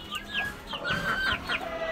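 Egg-laying hens shut in a backyard coop cluck and squawk in quick overlapping bursts, close and fairly loud, with no talking.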